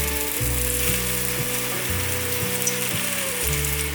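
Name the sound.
vegetable rolls frying in oil in a pan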